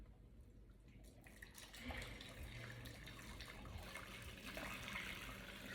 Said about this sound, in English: pour it directly into my dipping pan.